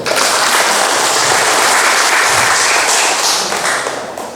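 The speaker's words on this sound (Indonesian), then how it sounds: "Mau kasih tepuk tangan boleh." Loud, dense audience applause at a regional council members' community meeting in Central Lampung, a thick wash of clapping that holds steady before fading slightly at the end.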